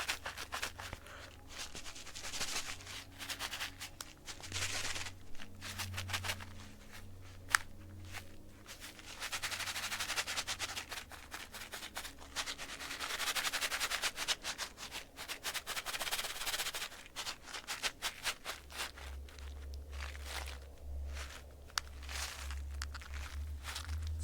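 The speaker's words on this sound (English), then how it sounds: "A rain stick." A rain stick is turned in a quiet ASMR setting, giving a long, continuous gravelly rustle and trickle of beads that swells and fades in waves, close up and without talking.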